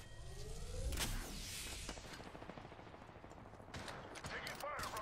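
Gunfire in the video game Apex Legends, a few sharp shots followed by rapid bursts of automatic fire over a busy game soundtrack.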